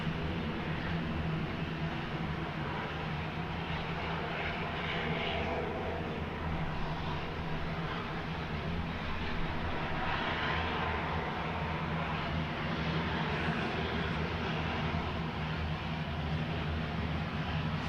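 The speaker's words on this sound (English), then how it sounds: "It's that Cessna 404" A Cessna 404 twin-engine aircraft approaches to land at East Midlands Airport, a steady broadband engine roar holding evenly at a distance throughout with no voices.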